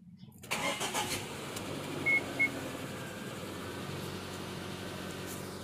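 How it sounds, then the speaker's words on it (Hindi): A car engine cranks and starts after the battery terminal rusted, then settles into a steady idle, with a couple of faint electronic beeps partway through. "मेरी गाड़ी चालू हो गई है।"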